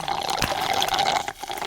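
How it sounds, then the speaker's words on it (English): Office water fizzing and bubbling as it pours, a short busy liquid splash with a steady hiss of bubbles over under two seconds. "There are too many bubbles in this office water."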